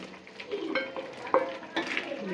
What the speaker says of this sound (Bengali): এখন আমি ডিম ভাজাটা দিয়ে দিই